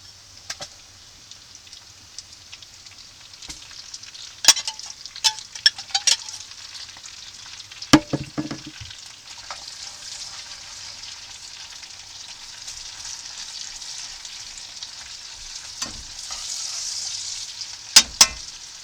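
Red onions and garlic frying in a pan over a campfire, a steady close hiss of sizzling oil with scattered sharp pops and crackles and an occasional clink of stirring.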